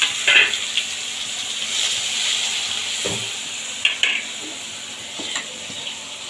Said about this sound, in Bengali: ওই তেলে দিয়ে লাল লাল করে ভেজে তুলে নেব